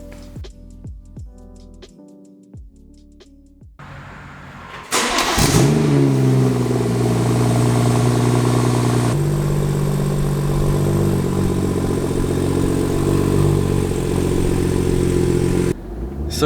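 A BMW 340i engine starts and settles into a steady, loud idle with rumbling revs, then cuts off near the end.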